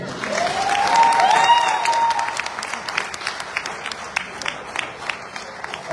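Concert audience applauding a singer's performance in Toronto, steady clapping swelling in the first seconds and thinning into scattered claps, with a faint voice and a sung tone briefly over it.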